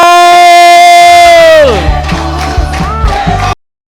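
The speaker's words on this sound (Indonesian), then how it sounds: "tepuk tangan untuk Sigit Cimol" Crowd noise with whoops and cheers from a stand-up comedy semifinal audience welcoming a comedian, rising after a sustained tone fades out, then stopping abruptly.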